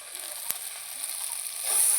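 A spice paste of turmeric and salt sautés in oil with a soft, steady high hiss, one sharp utensil click, and a slight swell at the end.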